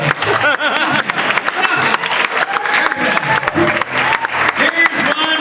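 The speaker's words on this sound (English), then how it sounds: "how about a hearty applause for nothing?" Applause and scattered laughter from a comedy show audience, mixed with lively voices and chatter, fairly loud and uneven throughout.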